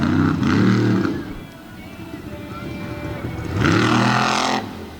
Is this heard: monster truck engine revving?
yes